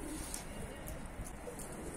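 Pigeons just let out of their rooftop loft, with faint cooing and soft bird calls over a steady outdoor background hum, no talking.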